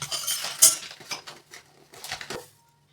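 Flattened rice (aval) roasting in a pan for a homemade health-mix porridge: irregular dry crackling and scraping clinks from stirring, fairly close and moderate in level, in short bursts with pauses and no talk.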